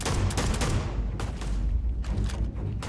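Rapid gunfire in Starfield, several loud bursts of close automatic shots with short gaps between them, booming and punchy against a steady background of game sound.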